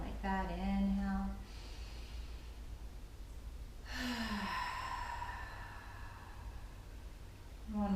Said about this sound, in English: Big inhale in through the nose. Open mouth, exhale.